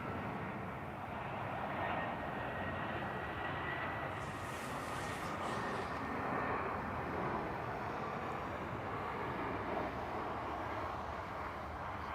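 Jet airliners at Toronto Pearson Airport (YYZ) produce a continuous distant broadband roar of engines that stays steady throughout, with no voices.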